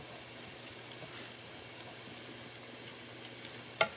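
Spaghetti squash frying in a pan, giving a steady, soft, crackling sizzle that holds evenly throughout, with one sharp click near the end.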